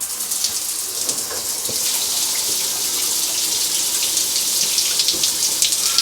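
Hot water running from a turned-on shower, a bright steady hiss of spray with small splashing spikes, close and continuous, with no talking.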